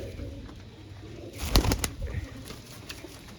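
Pigeons kept in a home loft give a brief coo with a short flutter in the middle, against quiet background noise.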